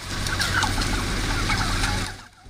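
Turkeys on a poultry farm gobble loudly and continuously, the dense flock calls overlapping into a steady din that drops away near the end.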